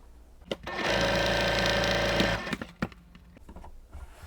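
A sewing machine stitches quilt pieces together for a pinwheel star block, one loud steady mechanical whirring run of about a second and a half, with a few clicks and handling knocks before and after it.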